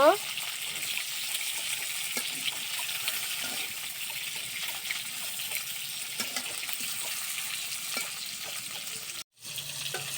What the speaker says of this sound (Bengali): এখন আমি মাছগুলো উল্টে দিব।